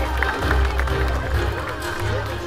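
Outdoor spectators at a knight tournament show clap and cheer together in a dense, sustained burst, with an announcer's voice mixed in.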